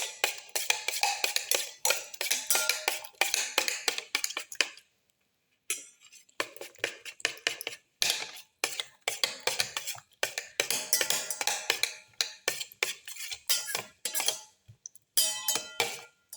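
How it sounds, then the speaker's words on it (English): Garlic, ginger and other omelette ingredients being mixed and crushed in a pan, with busy scraping and clinking of a utensil against the pan in steady bursts, close and fairly loud, broken by brief pauses. "Thoroughly mix and crush all the ingredients together."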